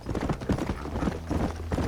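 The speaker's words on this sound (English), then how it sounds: "Okay, mount your horse." A horse's hooves pound out a fast, steady clip-clop while it is ridden in the Red Dead Redemption video game, loud and close with no talk over it.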